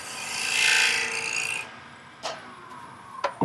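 A small spindle gouge cleans up a wooden box tenon spinning on a lathe, a loud, close rasping scrape lasting over a second, then a few sharp separate taps and knocks.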